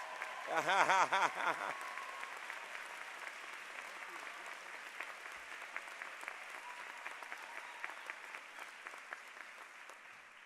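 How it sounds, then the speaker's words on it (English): Graduation-ceremony audience applause rises after a brief harmonic burst at the start, then settles into steady, dense clapping that carries on through the rest of the clip, filling a large commencement hall. "Give them a big round of applause."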